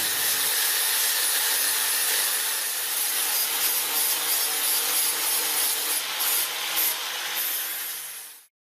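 Steady, loud abrasive rasping as a piece of Land Rover bulkhead is cut out, a continuous grinding cut held for several seconds close by before stopping abruptly.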